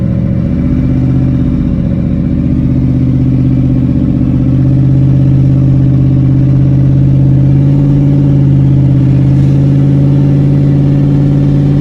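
A Ford F150 pickup with a Gen 2 Coyote twin-turbo engine pulls hard and shifts up through its gears, a loud, steady engine roar from inside the cab with pitch changes at each shift.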